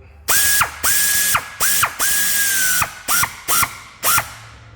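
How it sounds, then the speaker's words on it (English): A ratchet wrench tightens a part on a 2004 Jeep Grand Cherokee during a coolant leak repair, sounding as a run of loud, close ratcheting bursts, some long and some short, with short pauses between them. "let's go ahead and get this over here tightened up"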